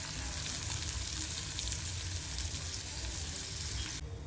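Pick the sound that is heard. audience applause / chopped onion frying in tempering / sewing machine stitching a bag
chopped onion frying in tempering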